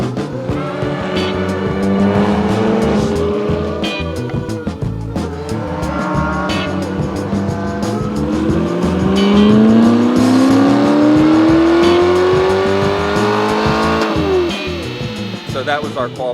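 A C8 Corvette Stingray race car engine roars close by, revving and shifting through gears as it drives hard around a track during qualifying, with occasional tire noise.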